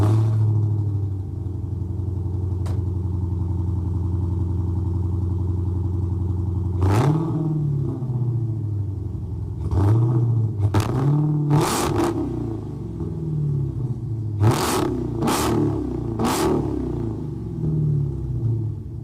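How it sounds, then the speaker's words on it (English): An 800-plus horsepower super stock Dodge Challenger sits at a loud, lumpy idle, then barks through a series of sharp throttle blips, a few spaced apart and then several in quick succession, all close and without talk. "the 800 plus horsepower super stock Challenger"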